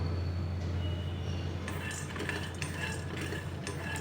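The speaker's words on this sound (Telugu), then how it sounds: "డ్రైగానే వేపుకోవాలండి, ఆయిల్ అది లేకుండానే" Peanuts dry-roasting without oil in a pan, stirred with a utensil that scrapes and clinks against the metal in quick irregular bursts, quiet over a constant low stove hum.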